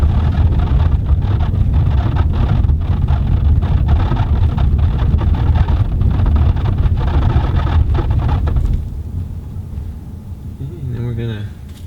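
New Honda car rolling over cobblestones, a loud rapid rattling thrum from the tires under a steady cabin roar that eases off near the end, with a voice speaking over it.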